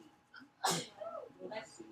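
A single sharp sneeze bursts out, loud and close, with a person talking briefly before and after it.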